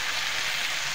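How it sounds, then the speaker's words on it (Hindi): Chicken and spices frying in a pan for chicken masala give off a brief, even, close sizzle with no voices. "चिकन के साथ हम मसाले भी थोड़ा सा फ्राई और कर लेंगे"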